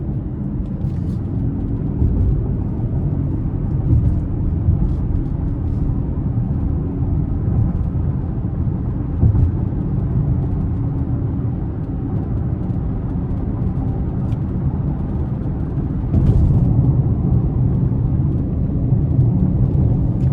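A 2026 Lincoln Corsair Grand Touring pulls hard under acceleration. A steady low engine and road rumble holds throughout, heard from inside the cabin, and swells slightly near the end. No one speaks.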